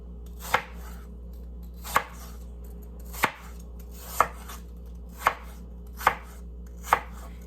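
A knife chopping apples on a cutting board for apple crisp, eight sharp, evenly spaced thuds about a second apart, close and clear with no talking.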